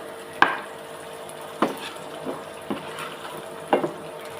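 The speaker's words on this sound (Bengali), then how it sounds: "এইভাবে সুন্দর করে নেড়ে নেড়ে মিক্স করে নেবেন।" Maggi noodles stirred in a pan, a spoon scraping and tapping against the metal in a few separate strokes over a faint steady hum, with no talking.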